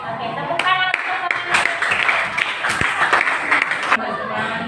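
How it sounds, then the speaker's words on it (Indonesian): An audience in a classroom claps after a student presentation, producing a short burst of scattered applause mixed with voices talking over it. "Oke, tepuk tangan sekali lagi."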